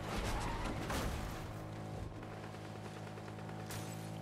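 Dense gunfire in the Fortnite battle royale video game: a rapid fusillade of shots with bursts and impacts, loud and busy at the start, then settling into a steadier rattle of distant shooting with no talk.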